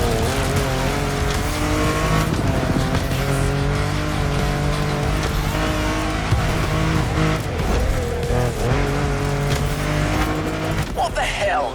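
Racing car in The Crew Motorfest video game driving at speed with sustained engine drone and tire squeals, loud and continuous throughout, with music-like tonal layers and no speech.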